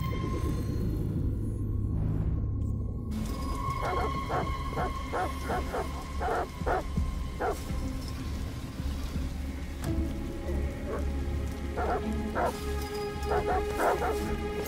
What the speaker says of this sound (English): Goddamn dogs. What the fuck are they barking at?